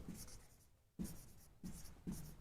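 Writing on a board during a grammar lesson: four short close bursts of scratchy strokes, separated by brief quiet gaps, heard alone without talk.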